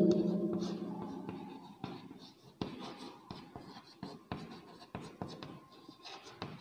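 Pen writing notes by hand on paper during a Hindi-language class 12 journalism lesson, a soft steady scratching with short tapping strokes, close and quiet, with no talking.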